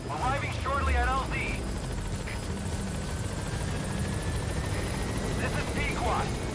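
A helicopter in Metal Gear Solid 5 arrives at a landing zone with a steady rotor drone throughout. Voices speak over it at the start.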